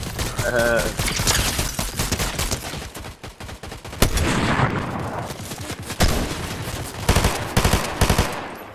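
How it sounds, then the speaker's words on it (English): Rapid bursts of hyper SMG gunfire in a Fortnite Battle Royale match, loud and close, firing in dense volleys with short pauses, mixed with other weapon shots and brief in-game effects while players talk over it. "Goddamn hyper SMG."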